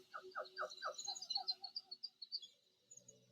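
Rainforest birds chirp in quick, repeated bursts of bright twittering notes, close and clear, fading out after about two and a half seconds.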